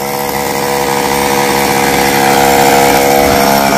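A chainsaw cutting down coconut trees runs loud and close in one unbroken, steady drone, alone with no voices.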